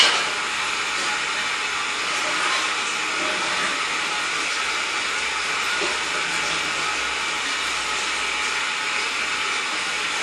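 Water spraying steadily onto the interior scuff plates of a Dodge Charger, a continuous loud broadband hiss with no pauses across the whole stretch.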